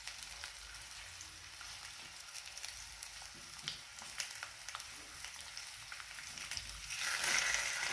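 Sweet potato slices cooked with jaggery sizzle in a pan as they are flipped one by one, a continuous fizzing with scattered light crackles that swells louder near the end.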